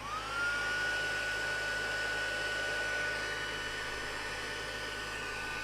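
An embossing heat tool blows steadily at close range, a continuous whooshing airflow with a rising whine as it spins up, holding level for several seconds with no talking.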